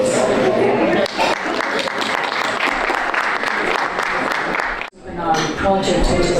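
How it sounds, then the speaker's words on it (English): Sustained, loud audience applause at a peace symposium welcoming speakers, dense clapping from a large crowd with a brief dip near the end before resuming, voices mixed in beneath. "Please welcome them with a round of applause."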